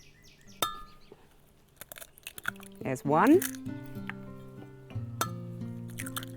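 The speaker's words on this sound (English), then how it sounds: "I'm going to crack 2 eggs into my glass jug." Eggs are cracked into a glass jug in a kitchen, giving a sharp shell crack, a wet squishy plop and glassy clinks, with someone speaking briefly.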